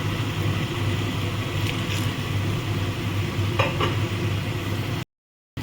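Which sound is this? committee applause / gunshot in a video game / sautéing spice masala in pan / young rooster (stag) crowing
sautéing spice masala in pan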